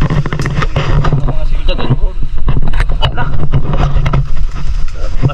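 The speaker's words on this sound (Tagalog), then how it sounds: "inabutan kami ng malakas na hangin at ulan" Strong wind and driving rain in an outdoor storm, with a steady roar and gusts buffeting the microphone. Voices talk through it.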